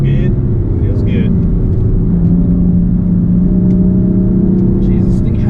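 A BMW M4 F82 running a Bootmod3 stage 1 tune accelerates under steady throttle, heard from inside the cabin as a loud, continuous low engine rumble and drone that holds throughout.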